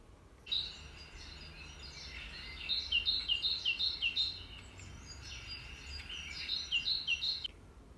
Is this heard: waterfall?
no